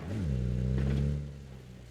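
A car engine in the video game PUBG, on the Taego map, revs up loudly with a rising then steady mid-low drone, easing off after about a second, with no talk over it.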